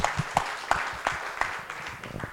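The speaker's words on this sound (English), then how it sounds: "special clapping for all the speakers who gave us such information" A meeting audience claps for its speakers, a moderate scattering of hands in an indoor room with individual claps standing out in a loose rhythm, fairly close and fading slightly toward the end.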